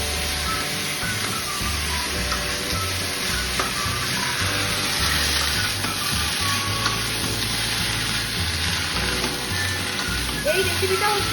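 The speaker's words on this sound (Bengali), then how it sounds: "এতে আমরা দিয়ে দেবো পরিমাণ মতন লবণ, হলুদ গুঁড়ো দিয়ে এটাকে একটু হালকা করে কষিয়ে দেবো।" A fish curry base with salt and turmeric fries in a pan for a shrimp, taro and stinging catfish curry, giving a loud, continuous close sizzle with occasional faint stirring noises throughout.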